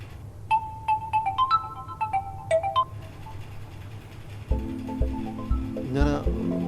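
A phone's melodic ringtone plays a run of short repeated electronic notes, clear and near, then stops as indoor movement, clatter and other household sounds take over.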